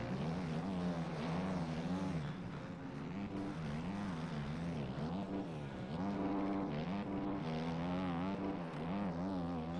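KTM motocross bike engines in a motocross racing game, a continuous buzzing high-revving drone that rises and falls in pitch as the throttle changes, steady and fairly loud with no talk.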